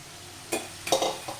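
Green beans and crushed coconut are stir-fried in a pan for a Kerala beans thoran, with a few short scraping stirs and soft sizzling close by, no talking.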